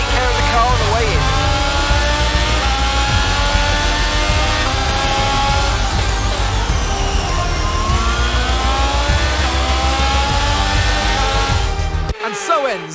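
Formula 1 car engine in F1 22 at the Azerbaijan Grand Prix, a loud sustained whine with rising and falling pitch sweeps under steady talk, cutting off abruptly near the end.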